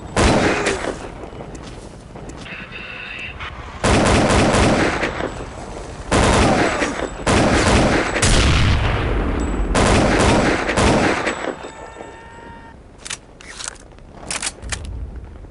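7.62 rifles firing in the video game Counter-Strike: Condition Zero Deleted Scenes, loud close bursts of rapid gunshots in several separate volleys with short mechanical pauses between them, no talking.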